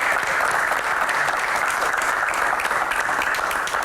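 Applause from a studio audience at a televised Q&A show, a dense, steady clapping that fills the whole stretch at constant loudness with no voices over it.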